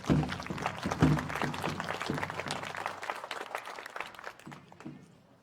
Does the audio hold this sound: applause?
yes